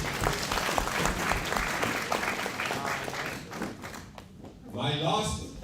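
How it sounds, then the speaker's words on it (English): Conference audience at a Pan African socialism dialogue opening ceremony claps hands in a dense, sustained round that thins out near the end, with a few voices underneath. "Can we clap hands for our media comrades?"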